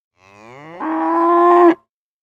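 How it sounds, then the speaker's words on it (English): A single long, loud cow moo rising in strength and ending abruptly, heard alone in a quiet setting. "Do you know what sound a cow makes?"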